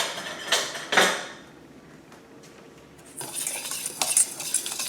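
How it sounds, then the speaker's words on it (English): Dry pancake ingredients with salt and baking powder stirred in a bowl: a couple of clinking scrapes, a quiet pause, then a longer stretch of soft, close brushing and tapping, with no voices. "I'm going to mix this up a little"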